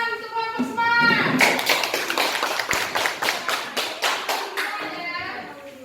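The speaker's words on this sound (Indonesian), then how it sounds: "Tepuk tangan untuk kelompok smart." A classroom of children applauding a group together, a steady rhythmic round of many clapping hands, loud and close, with children's voices chanting along at the start and end.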